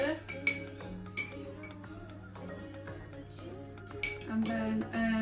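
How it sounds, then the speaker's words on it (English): A utensil clinks and scrapes against a pan while sweet chilli sauce is stirred into oil, with light metallic taps scattered through and a background hum. "Give that a little stir."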